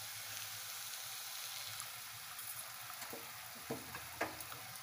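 Turmeric and chili powder spice mix with a little water being stirred in a pan, faint soft scraping and light sizzling with a few quiet clinks near the end.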